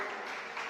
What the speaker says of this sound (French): On les applaudit très fort également.